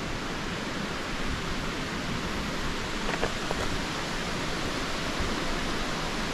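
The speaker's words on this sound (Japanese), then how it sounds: "まあ当然川沿いなんで川の音はずっとするんですけど" A riverside stream rushes steadily beside a path, a loud, continuous broadband roar of flowing water filling the whole clip with no break or change in level.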